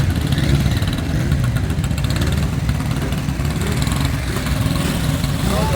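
A rare motorcycle idling at a bike week in Pesaro, Italy, a loud steady low rumble close by for several seconds, with faint crowd noise behind.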